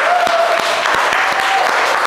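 Brief round of clapping at the end of a home dance workout, a few distinct hand claps over a bright, steady background of music or ambience, fairly close and loud.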